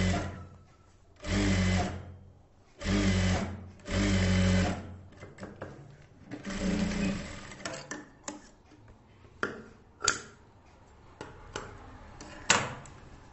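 A tailoring sewing machine runs in three short, loud stitching bursts along a blouse cross belt, followed by a softer run and then scattered clicks and ticks of handling the fabric.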